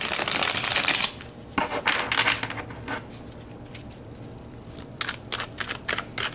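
Tarot cards are shuffled and pulled by hand: a loud riffling burst at first, then scattered flicks and slides of cards, with a quick cluster of snaps near the end and no talk.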